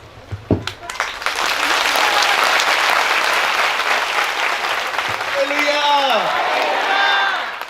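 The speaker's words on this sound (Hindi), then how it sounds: "किसी के लिए भी ताली बजानी हो तो ऐसे बजाया करो।" A church congregation breaks into loud, sustained applause after a few sharp opening claps, with scattered whoops rising near the end.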